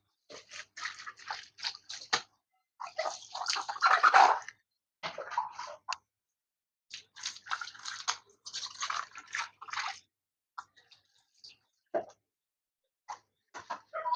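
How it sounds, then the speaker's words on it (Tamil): Shoes are scrubbed and washed with water and a cleaning product in close, intermittent bursts of wet brushing and squishing, separated by short silent gaps. "இப்போ நம்ம கொஞ்சம் தண்ணி வாஷ் பண்ணுவோம்."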